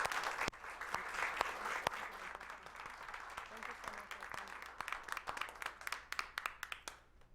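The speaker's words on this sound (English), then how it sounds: "Please join me in giving Dr. Cancel-Tirado and Dr. Thompson a round of applause." An audience at a fireside chat on community health and exercise science gives a round of applause, dense clapping at first that thins into scattered individual claps before stopping.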